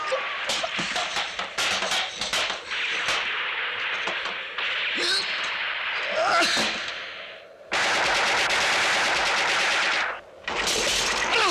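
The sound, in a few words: gunfire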